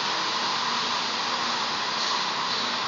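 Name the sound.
hot air welding an LLDPE plastic tank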